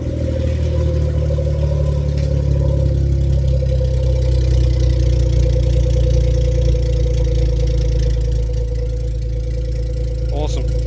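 A Suzuki Every DA52V kei van idles steadily through a new $40 aftermarket exhaust, a loud, close, even drone with a faint rev-like flutter near the end and no talking.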